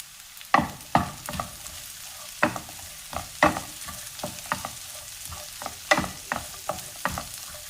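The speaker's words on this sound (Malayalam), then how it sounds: "ചെറിയ ഉള്ളി ഒന്ന് വാടി വന്നിട്ടുണ്ട് അതിലേക്ക് അരിഞ്ഞു വെച്ചിരിക്കുന്ന മുളക് ചേർക്കാം" Chopped chillies stir-fried with softened small onions for a spicy Onam sadya thodukari, a steady oil sizzle broken by repeated sharp spoon scrapes and knocks against the pan, close and fairly loud, with no talking.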